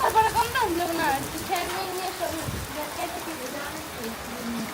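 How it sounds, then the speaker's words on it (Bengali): Rain falling outdoors, a steady wash of drops spread across the whole clip, with people talking loudly over it throughout. "বৃষ্টি কিন্তু ভালোই নামছে, পরিবেশটা ঠান্ডা করে দিয়ে গেল।"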